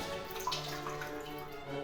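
Water from a leaking bath waste trap trickling and gurgling as it drains out during a plumbing repair, steady and close with small drips, no talking.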